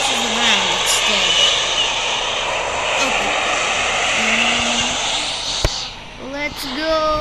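Steady engine roar of an F-14 fighter jet in flight in a video game, a continuous broad drone throughout, with a player talking over it.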